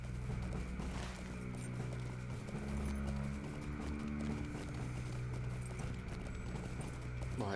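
Horse hooves clip-clop in a steady, quick rhythm along a road in a fantasy video game, a continuous trotting pattern under a layer of game music, with one brief whinny-like accent.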